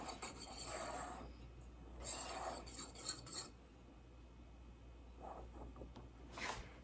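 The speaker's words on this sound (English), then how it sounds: "And I just want to stir those together." A utensil scrapes and clinks around a bowl, stirring baking powder and coarse salt together for cherry limeade cupcakes, in soft, quiet bursts of rubbing with brief pauses, close and faint.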